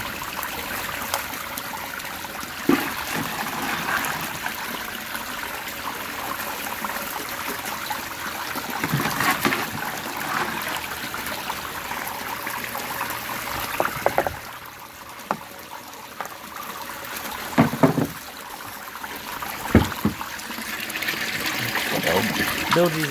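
Water runs steadily through a mini recirculating gold sluice fed with concentrate material, a continuous trickling wash with a few brief knocks and splashes, fairly close throughout.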